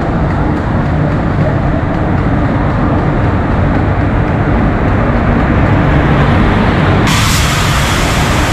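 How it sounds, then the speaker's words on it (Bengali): The Kriya Yoga Express stands at platform 22 in a busy station, giving a loud, steady rumble and roar of rail and crowd noise throughout, with no distinct horn or braking. "আর আমাদের ট্রেন ক্রিয়াযোগা এক্সপ্রেস অলরেডি ঢুকিয়ে দিয়েছে 22 নম্বর প্ল্যাটফর্মে"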